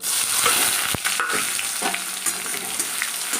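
Onion hits hot oil already tempered with dried red chilies, bay leaf and whole garam masala for dal, raising a loud sizzle broken by a sharp utensil clatter and scraping stirs, with no talking.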